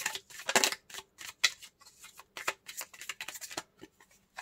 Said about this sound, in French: Et on va prendre une deuxième carte.